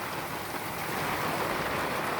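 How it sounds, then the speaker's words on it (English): Heavy rain falling steadily as a dense, even hiss that fills the whole moment, constant and fairly loud with no voices or other sounds. "We're getting a really good rain."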